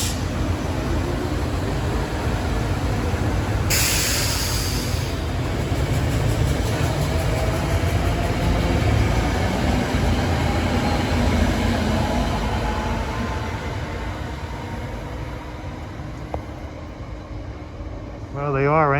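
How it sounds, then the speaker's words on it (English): A SEPTA Thorndale commuter train passes at Bryn Mawr, Philadelphia, a loud, steady rumble of older rail cars rolling by close for most of the time, with a brief hiss, then fading as a horn-like tone sounds at the end. "Well, we got a Thorndale train at 450."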